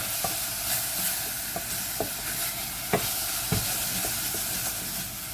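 Soup in a pot being stirred with a utensil, soft scraping and occasional clinks of the spoon against the pot over a low simmering hiss, with no talk.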